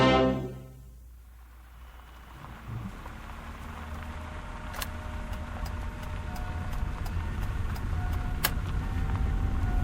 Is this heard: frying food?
no